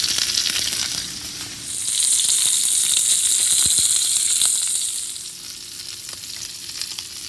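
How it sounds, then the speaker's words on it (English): Pork tenderloin searing in a hot pan: a loud, close, hissing sizzle that swells for a few seconds while the meat is pressed and turned, with occasional light knocks and no talk. "Sear every single side, even the sides right here, the tops, every single side, in order to get that perfect sear."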